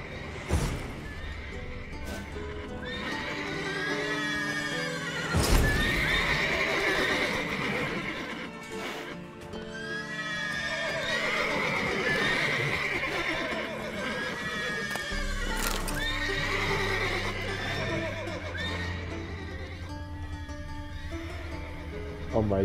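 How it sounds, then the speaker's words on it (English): Horses in The Witcher 3: Wild Hunt whinny and neigh repeatedly over a continuous bed of ambient sound, with occasional hoof clops and thumps; the calls are loud and close. "the horses are too noisy"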